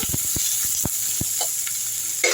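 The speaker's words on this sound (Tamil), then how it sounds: "வெங்காயமும் கருவேப்பிலையும் போட்டாச்சு நல்லா வதக்கிடலாம் இதை" Onions and curry leaves sauté in oil in a kadai with a constant close sizzle, punctuated by several distinct knocks and scrapes of a stirring spoon, then a brief louder flare at the end.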